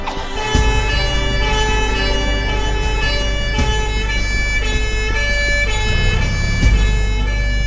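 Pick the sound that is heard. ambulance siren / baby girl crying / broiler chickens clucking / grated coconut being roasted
ambulance siren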